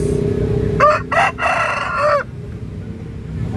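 A rooster crows once at a busy chicken market in Makassar, a clear rising-and-falling call close to the microphone over a steady background of murmur and market noise.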